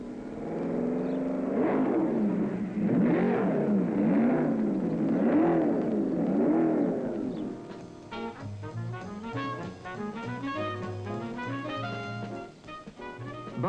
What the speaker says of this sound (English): That's the BRM, with the world-famous racing motorist Graham Hill driving it.